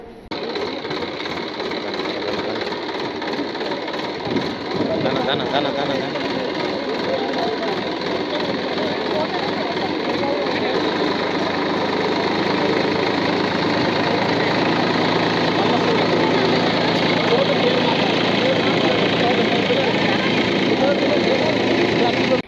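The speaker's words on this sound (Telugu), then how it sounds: "నంద్యాల ఎంపీ బైరెడ్డి శబరి స్వయాన ట్రాక్టర్ నడుపుతూ సందడి చేశారు." A steady, loud engine drone, rumbling and continuous throughout like a tractor running nearby.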